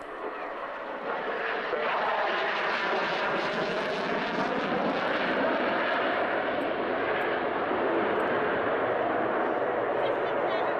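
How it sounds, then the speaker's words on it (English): An F-16 fighter jet flying an air display gives a broad, continuous roar that swells in the first seconds and holds loud and steady, heard from a distance. "And right now, the fantastic F-16 display."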